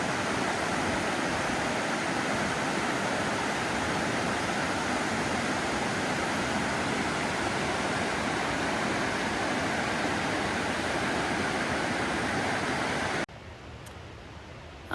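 Loud steady rushing water fills the air beside a trail shelter along the Wonderland Trail near South Mowich River camp, continuous broadband roar that drops away abruptly near the end.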